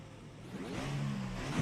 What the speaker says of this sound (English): I'm revving the engine right now, Sean.